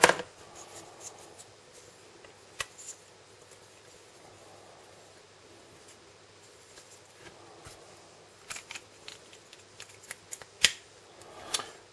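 Scissors snip away excess silicone mold material for resin casting in a quiet room, with a few faint, sharp cuts scattered among soft handling rustles.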